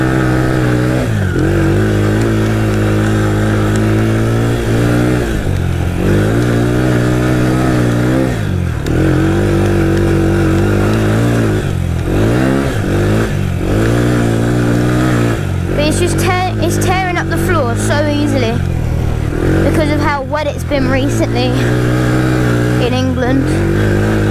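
An ATV engine revs and drones continuously through a trail ride on soft, drying ground, with the pitch rising and falling as the throttle opens and eases, loud and close throughout.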